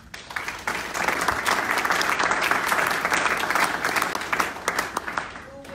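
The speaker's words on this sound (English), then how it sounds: "I want to get one more round of applause for all our presenters" Audience applause for presenters at a 2019 Coatesville community update, a steady wash of many hands clapping that swells quickly and holds loud for several seconds before thinning toward the end.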